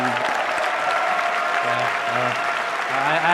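Loud applause from an audience at the Dota 2 Boston Major 2016 grand final, dense continuous clapping that swells slightly toward the end, with some faint voices underneath.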